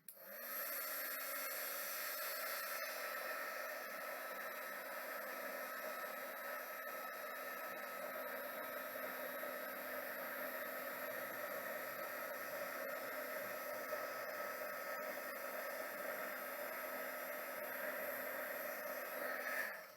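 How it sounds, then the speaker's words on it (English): A very old heat embossing tool blows hot air for papercraft stamping, a steady fan whir with a faint whine. It runs unbroken and close for about twenty seconds, then cuts off. "grab our very old heat embossing tool"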